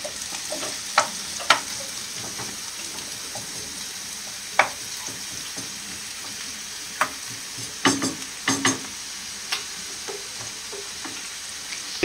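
Ground meat frying in a pan for Turkish kadınbudu köfte, with a steady low sizzle broken by scattered clacks and scrapes of stirring, quiet and close with no talking.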